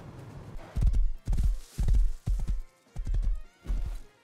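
Horse hooves clopping in the video game Rust, heavy thudding footfalls in a steady walking rhythm of about seven close, loud hoof strikes with brief gaps, no voices.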